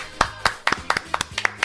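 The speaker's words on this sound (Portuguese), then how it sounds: "Uma salva de palmas, por favor." A few close individual hand claps, about ten sharp separate slaps in an uneven rhythm, loud and dry, with no crowd behind them, on a podcast set.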